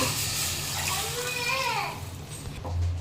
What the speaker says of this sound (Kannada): ಇವಾಗ ನೀರು ಹಾಕ್ತಿದ್ದಾರೆ ನಮ್ಮ ಸಿಸ್ಟರು.